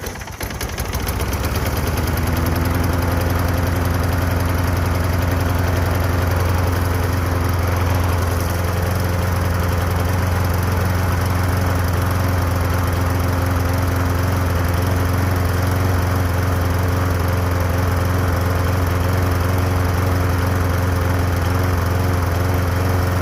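A smoking lawn mower engine sputters to life and then runs steadily, a loud, constant droning hum that continues without letup.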